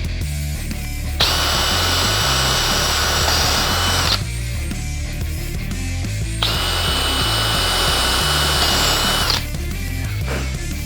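A power drill driving screws whirs in two long sustained bursts, loud and close, with short pauses and faint handling noise between runs, indoors while working on a custom bass guitar neck.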